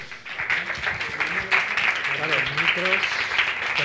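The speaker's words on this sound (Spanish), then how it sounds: "Os pido un fuerte aplauso para ellos" Audience applause for two speakers at a science-communication talk on producing an exhibition: steady, dense clapping throughout, with voices talking over it.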